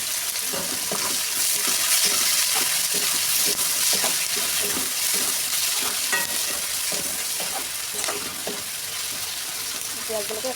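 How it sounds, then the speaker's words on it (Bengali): Chopped onions fry and sizzle in a pan with steady crackle, broken by repeated stirring scrapes and clinks of a utensil, close and moderately loud throughout. "এবার দিয়ে দেবো কুচি করা পেঁয়াজ।"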